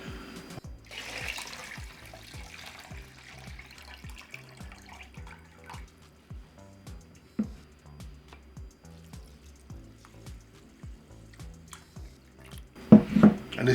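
Water splashes and drips while rice is rinsed in a pot before cooking, with a run of soft rhythmic sloshing and trickling, quiet throughout, and a sharper clatter of water and pot near the end.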